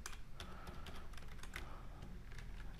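Quick typing on a computer keyboard, a fast irregular patter of light key clicks heard up close and fairly quiet, with no voices.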